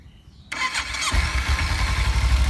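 After a brief quiet moment, a car engine cranks and fires up, then runs on with a close, steady idling rumble.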